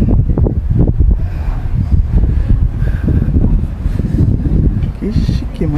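Strong outdoor wind at Jurerê Internacional, Santa Catarina, Brazil, buffets the microphone in steady low rumbling gusts, with a faint background hum throughout.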